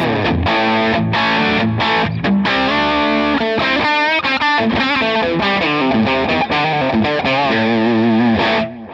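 Heavily overdriven electric guitar through a Line 6 Helix amp modeler, both drive channels maxed, plays loud, sustained distorted chords and riffs continuously, with no voices.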